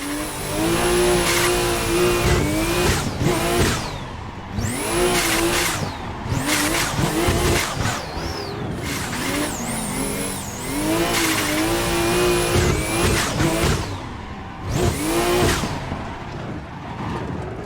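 A red 700hp 2JZ-powered Toyota Aristo drifting in Assetto Corsa: a loud, continuous engine roar with repeated rises and falls in revs, running close and up front, with tire squeal mixed into the slides.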